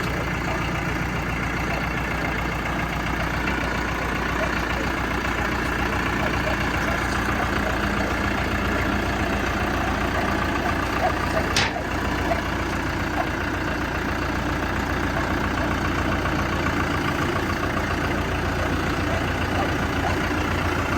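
A heavy Basak tractor engine idles nearby with a constant low rumble and rattle, unchanging for the whole stretch.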